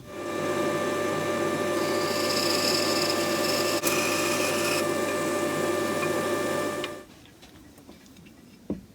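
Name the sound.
drilling a hole in a wooden plane handle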